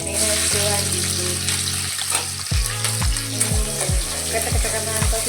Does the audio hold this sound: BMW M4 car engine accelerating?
no